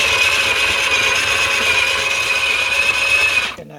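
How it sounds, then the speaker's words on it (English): A Breville Dose Control Pro coffee grinder grinds beans at an espresso setting, a loud steady whirring drone that holds for about three and a half seconds before cutting off abruptly. "We'll grind some beans here."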